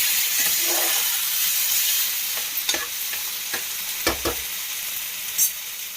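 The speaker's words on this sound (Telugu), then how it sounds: "ఇలా మంచిగా కలిపేసేయండి." A pav bhaji mixture of mashed vegetables is stirred in a hot pan, giving a steady sizzle and hiss with a few sharp scraping clicks of the spoon against the pan, close and clear, with no talk.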